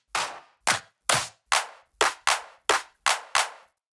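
A sampled drum-machine clap from a Revealed Recordings drums pack, struck nine times in a steady, evenly spaced sequence, each hit sharp and bright with a short decaying tail, alone and without talk.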